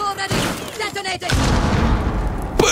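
A deep video game explosion booms midway and rumbles on in Rainbow Six Siege, following a stretch of energetic voice and game noise.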